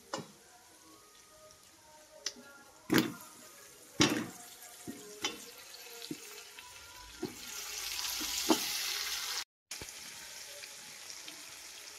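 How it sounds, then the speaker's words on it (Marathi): Masala-stuffed brinjals dropped into hot spiced tempering oil with curry leaves, giving sharp clatters and knocks as they go in, then a rising steady sizzle and hiss of frying, close and fairly loud. "यामध्ये आता मसाला भरलेलं वांग टाकून घेऊया"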